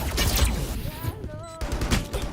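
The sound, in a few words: gunfire in the video game Valorant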